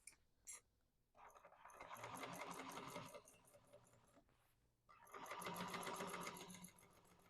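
A sewing machine stitches a modified Mercury bag in two faint, steady bursts of rapid mechanical chatter, separated by a short pause.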